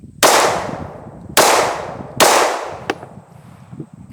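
Three loud, sharp shots from a personal concealed-carry handgun fired at a target, spaced about a second apart, each ringing out with a decaying echo, followed by a faint metallic clink.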